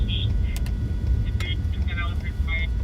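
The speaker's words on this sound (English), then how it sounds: "It's a fucking F-150 with 35-inch freaking tires on it and a 3-inch lift and 4-wheel drive." A lifted Ford F-150 4x4 on 35-inch tires with a 3-inch lift drives through Michigan lake-effect snow in a winter storm, its steady low engine and road rumble droning from inside the cab while people talk.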